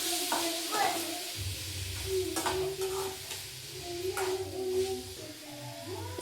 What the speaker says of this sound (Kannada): ಈಗ ಇದನ್ನು ಚೆಂದಾಗಿ ಫ್ರೈ ಮಾಡ್ಕೊಳಕತ್ತಾರು.